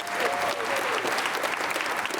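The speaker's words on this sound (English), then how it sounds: "So round of applause for them." An audience at the 2024 Milton High School winter concert gives a loud, continuous round of applause, dense many-handed clapping filling the room from start to finish.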